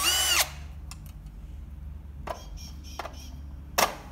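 A power drill unscrewing the screws from the casing of a temporary pet door: a loud whir at the start, a few faint clicks, then a second short drill burst near the end, close up and without talk.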